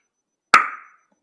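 A single sharp mouth-made crack imitating a baseball striking a bat, one close, crisp knock with a short ringing tail, alone against silence.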